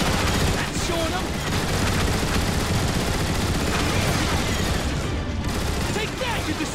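Dense, continuous turret gunfire from gun emplacements in the game Transformers: War for Cybertron, a loud sustained barrage of rapid shots and booms with battle noise throughout.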